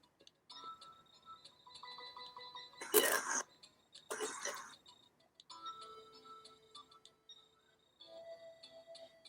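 In the intro of the game Boktai: The Sun Is in Your Hands, a character gives two short, harsh coughs about a second apart. Soft electronic tones and ticking game sounds play around them.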